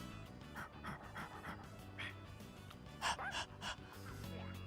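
Quick, breathy panting from a dog in the video game Persona 3 Reload, a run of short rhythmic puffs close up with a few sharper gasps midway over soft background music.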